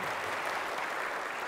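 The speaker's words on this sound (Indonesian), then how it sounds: "Tepuk tangan." A crowd applauds at a school ceremony, dense even clapping that fills the moment without pause and stays steady and fairly loud throughout.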